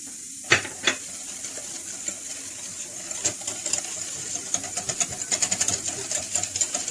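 Lemon cake batter with oil and milk being mixed in a bowl: quick, busy clicking and scraping strokes that start sparse and grow denser and steadier toward the end, fairly close and without any talk.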